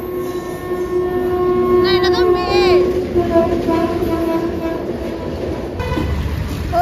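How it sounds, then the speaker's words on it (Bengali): A local train pulls into a Mumbai station platform with a steady, close rumble, and bright horn tones sound partway through as people talk nearby. "ওই যে আমাদের ট্রেন আসছে"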